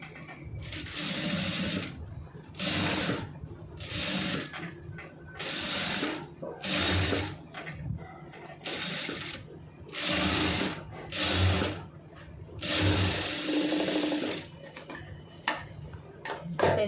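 A tailor's sewing machine stitches a layered neck design in bursts, its fast rhythmic needle clatter starting and stopping repeatedly as the fabric is turned, loud and close with no talk.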